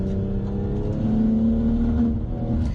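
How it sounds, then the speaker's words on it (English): BMW M240i fitted with a Dinan springs and handling kit accelerating hard out of a corner, a loud steady engine drone with a rising harmonic as revs climb, close and continuous with no talk. "braking for this corner, accelerating through that one"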